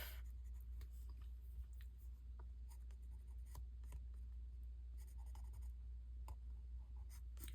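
A Paper Mate pen scratches steadily across paper while filling in a drawn leaf, a soft close-up scribble with small irregular strokes and no talk.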